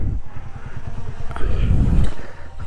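A motorcycle engine putters close by with a low, chugging idle that swells as it revs briefly, then settles back, heading uphill toward the Pasonanca hanging bridge in Zamboanga City.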